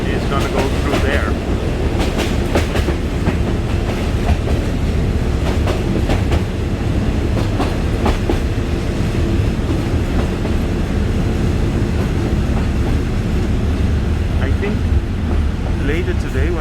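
A Bangkok SRT train rolls along the rails with a loud, continuous rumble and intermittent clacks and squeals, while voices are faintly audible beneath the noise.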